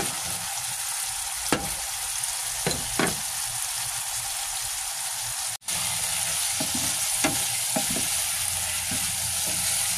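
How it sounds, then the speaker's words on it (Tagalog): Pork sautéing with garlic and onion in a pan, a loud steady hissing sizzle close up, broken by a few utensil clicks and scrapes and one brief dropout midway, with no talk. "ginigisa ko na po yung pork, tapos garlic"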